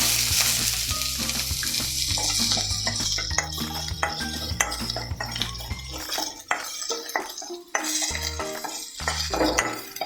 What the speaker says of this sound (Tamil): அதே எண்ணெயில் நம்ம பெரிய வெங்காயத்தை ஆட் பண்ணிக்கலாம்.